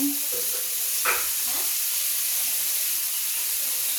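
Pumpkin pieces fry in a pan with a steady, close hiss and sizzle that carries on throughout, with a soft clatter near the start and no talking.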